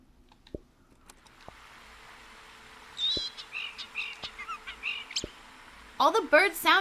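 Bird calls in a modded video game: sparse clicks at first, then a run of varied chirps and honking calls, ending in a louder cluster of overlapping squawks, close and distinct.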